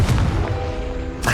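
A Confringo blasting spell goes off in Hogwarts Legacy as a loud, close boom with a low rumbling tail, followed by a sharper second burst near the end, with no voices.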